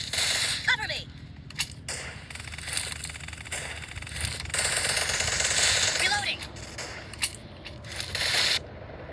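Video game gunfire in a shooter match, with rapid bursts and single shots crackling loudly on and off, some sharp impacts in between, over a busy game background.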